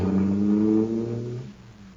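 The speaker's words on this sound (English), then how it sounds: "that cosmic surface car is really roaring" A radio-drama sound effect of a supercharged space car running on super fuel: a low, steady droning engine roar that sinks in pitch and fades away over about two seconds, with no voices.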